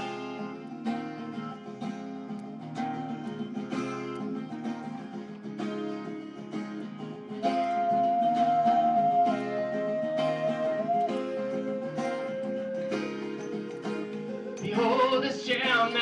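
An original song performed live at an open mic night at a San Francisco cafe: instrumental playing with a steady rhythmic pulse and sustained melodic notes. It grows fuller and louder midway and ends in a brighter, busier flourish, heard without vocals.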